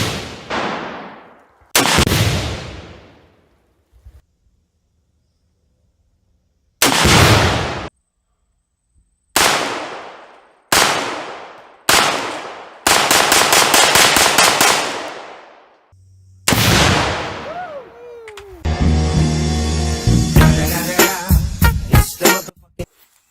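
Loud gunshots and Tannerite blasts crack out one at a time at a shooting ranch, each sharp report followed by a rolling echo, with gaps of silence between, ending in a rapid burst of automatic fire.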